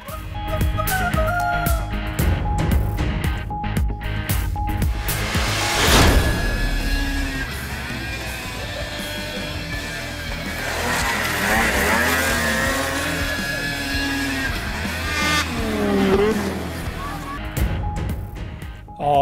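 Motorbikes fitted with special tyres ride on a sloped surface at a bike and skating event in Italy, their engines droning and revving at moderate loudness beneath continuous narration by a man.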